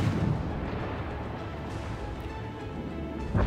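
Dense, rumbling naval gunfire in the video game World of Warships rolls continuously, loud and heavy, with a sharper blast near the end.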